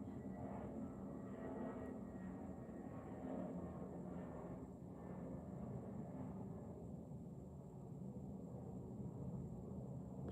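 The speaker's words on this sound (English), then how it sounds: "Gosh, the planes." Airplanes fly overhead, heard as a low, distant, continuous rumbling roar that holds steady throughout, faint and without nearby voices.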